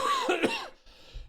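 One short, close cough from a person with a nagging cough, indoors during a Vintage Cube card game session.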